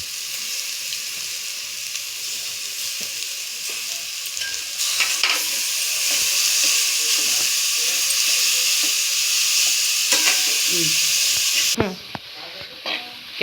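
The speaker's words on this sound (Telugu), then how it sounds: "ఇప్పుడు మనం క్యారెట్ తురుము వేసేసుకుందాం" Grated carrot sizzles and hisses steadily in a hot pan while being stirred for a lunch-box rice dish, with occasional scraping stirs over a continuous close frying noise.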